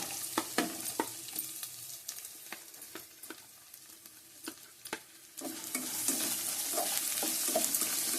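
Onions frying in oil for semiya upma, stirred with a utensil: a steady close sizzle with repeated scraping and clinking strokes that grow into a louder, denser fry toward the end, no voices.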